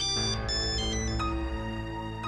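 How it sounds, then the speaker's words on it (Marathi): A phone ringtone plays loud and steady, a sustained electronic melody filling the whole moment with no talk over it. "शास्त्रीजींचा फोन यावेळी?"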